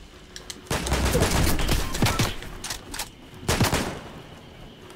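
Rapid gunfire bursts rattle in Fortnite, a dense volley lasting over a second, scattered shots after, then another sharp burst, moderately loud with no talking.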